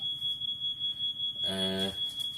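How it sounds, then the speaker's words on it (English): A smoke alarm sounds a shrill, continuous high-pitched tone throughout, with a brief buzzy burst partway through; close and fairly loud. "So I've activated the smoke alarm."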